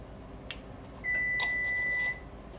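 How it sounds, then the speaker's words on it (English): A kitchen oven timer alarm sounds one steady, thin electronic beep lasting about a second over low background hum in a home kitchen where a Sicilian scaccia pizza roll is being made, with a few faint clatters around it. "And that is the alarm for the other one"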